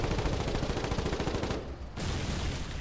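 Mortar tank firing in the war game Foxhole, a dense, loud run of rapid booming impacts and shots that drops out briefly before resuming, with no talk.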